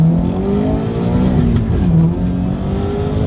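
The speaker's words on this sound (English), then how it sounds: "Let's give it some gas." Engine of a Subaru BRZ or Mazda RX8 sports car accelerating hard as the driver presses the gas, a loud close rising roar with pitch climbing and dipping through a gear change, no voices.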